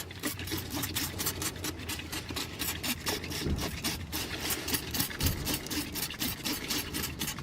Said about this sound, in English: I'm just going to give this area a bit of a clean down. This is not WD-40 by the way, it's just brake cleaner.